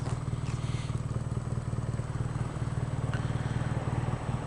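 A 2016 BMW R nineT's twin-cylinder engine runs steadily and close, a low pulsing throb with mechanical clatter holding an even rhythm throughout, with no one talking.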